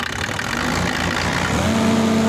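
A motor pump engine on a pumping station for irrigation runs steadily close by, then is revved slightly so its hum rises and a steady tone strengthens toward the end, with no talk.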